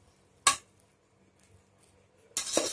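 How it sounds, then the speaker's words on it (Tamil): A ladle scrapes and clinks twice in a pot of cooked coconut milk pulao rice, one short close knock and then a longer scraping stir, with quiet gaps between. "இதை நல்லா கரண்டி போட்டு மிக்ஸ் பண்ணி விட்டுக்கோங்க"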